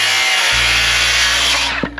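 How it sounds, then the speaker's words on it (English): Power drill driving into 2x6 lumber for a tomato planting structure, a loud continuous whirring motor that starts abruptly and runs steadily, close up, then winds down near the end with no talking. "Just gonna cut it and drill it onto there."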